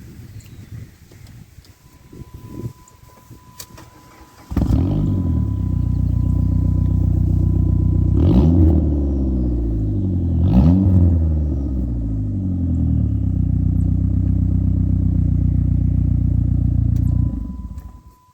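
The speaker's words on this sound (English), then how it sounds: "I put a little 18-inch glass pack just to mellow it out a bit, and I'll fire it up. You can see how it sounds." A 2004 PT Cruiser engine fitted with an 18-inch glass pack exhaust starts up loud and close, settling into a deep, steady idle with two sharp revs partway through.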